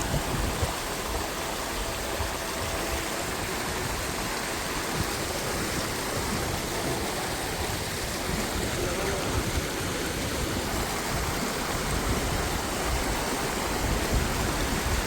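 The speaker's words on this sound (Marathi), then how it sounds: "ज़्यादा नदी का बहाव आ गया इसके ऊपर." Steady rushing water of the Narmada River flows loudly and continuously over a low bridge, a broad splashing roar with no voices.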